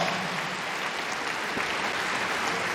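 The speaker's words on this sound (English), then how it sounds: "a big round of applause for Dalton and Dust." Steady applause from the crowd at a Kennel Club British Open agility final after a dog's jumping run, a dense wash of clapping that holds at an even level for a few seconds.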